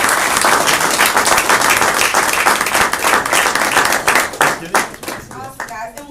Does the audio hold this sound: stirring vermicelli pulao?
no